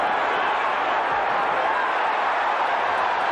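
Arena crowd at the 1988 Mike Tyson vs Larry Holmes heavyweight boxing match, a steady loud roar of many voices filling the hall without a break.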